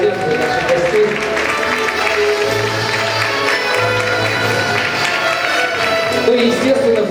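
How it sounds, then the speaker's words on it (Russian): Audience applause at a student league gathering, steady broadband clapping from a crowd held for several seconds, with a voice speaking over it. "Друзья, давайте будем аплодировать."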